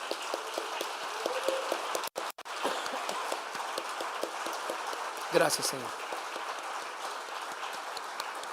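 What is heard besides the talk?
loud applause in church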